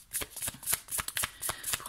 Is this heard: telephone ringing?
no